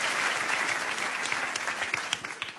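An audience at a stage show claps in steady, dense applause that fills the room, moderately loud and continuous, thinning slightly with a few sharper individual claps near the end.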